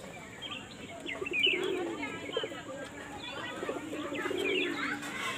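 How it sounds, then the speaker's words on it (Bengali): A pair of white pigeons coo close by in soft, repeated throaty rolls with a few faint chirps in between. "এই হচ্ছে পায়রাটা জোড়া।"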